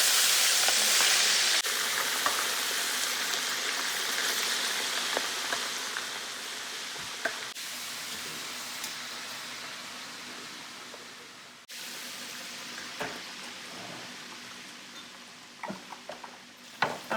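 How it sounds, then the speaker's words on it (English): Chunks of Haitian-style pork griot frying in hot oil, a steady dense sizzle and hiss throughout with occasional pops and faint utensil clicks, close and loud. "Frying the griot."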